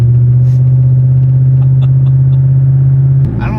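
A Corvette's engine drones loudly from inside the car while driving, a steady deep low hum with faint tapping, then a shift in tone near the end.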